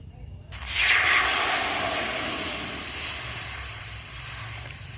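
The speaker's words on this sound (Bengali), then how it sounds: "এবার আমি এই কড়াইয়ের মধ্যে অল্প একটু জল দিয়ে দেবো চালটাটা সিদ্ধ করার জন্য" Water poured into a hot wok sizzles and hisses sharply, then settles into a steady steaming hiss that fades slightly, for boiling elephant apple.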